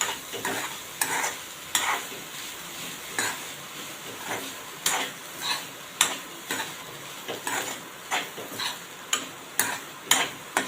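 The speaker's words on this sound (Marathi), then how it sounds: "नारळाची पूर्ण एक वाटी मी किसून घेतलेली आहे ती घालत आहे ते पण तुपावर चांगली परतून घेऊया" Freshly grated coconut sautéing in ghee for a sweet modak filling, stirred with a spatula. Quick, regular clinks and scrapes against the pan ring out close over a soft, continuous sizzle, with no voices.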